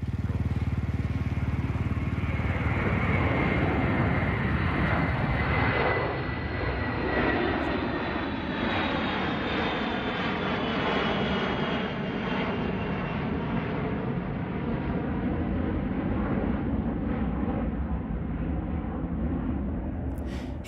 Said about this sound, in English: Take a look at this E3A Sentry doing a touch and go at Stavanger Airport,